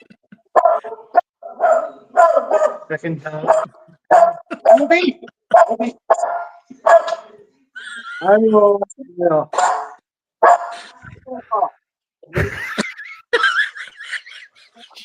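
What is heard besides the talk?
dog barking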